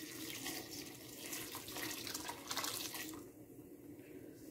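Water poured into a cooking pot holding chickpeas, onion, tomato and Kashmiri red chilli, a close, soft gushing splash lasting a few seconds before tapering off, with no talk over it.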